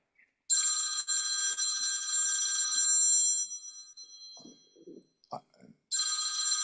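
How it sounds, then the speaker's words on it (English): A telephone rings twice with a bright electronic trill during a seated discussion. The ring is loud and near, with a few soft handling noises in the pause between rings. "Excuse me, my phone is ringing."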